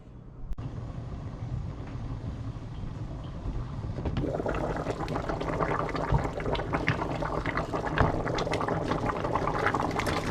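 A pot of goulash with little baby carrots simmers, giving a steady bubbling and hissing boil that grows busier after the first few seconds and holds at a soft, even level throughout.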